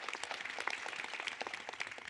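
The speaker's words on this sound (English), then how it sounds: "we should clap for Adam" An audience at a film festival panel applauds a short-film director, producing a brief burst of dense, steady clapping with no speech over it.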